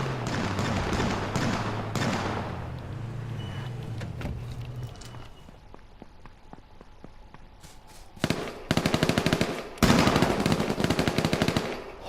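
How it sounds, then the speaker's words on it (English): Rapid bursts of gunfire crackle during a street scene near a police car, with dense cracks at the start and louder clustered volleys near the end, sounding fairly close with background ambience between. "Plenty of shooting going on."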